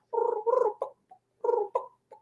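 A turkey call worked in soft purring notes to imitate feeding hens gives short rolling purrs in two clusters, each ending in a brief yelp-like note, close and clear against silence.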